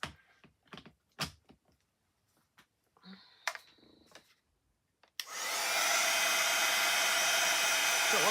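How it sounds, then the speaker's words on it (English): A heat gun switches on with a sudden loud, steady rushing blast of air after a few quiet clicks and handling noises. "I'm going to plug my dryer in,"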